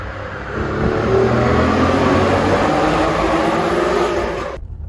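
Alfa Romeo 156 Sportwagon with the 2.5 engine on the move, its engine note droning steadily under road noise and swelling slightly mid-way, then cut off abruptly near the end.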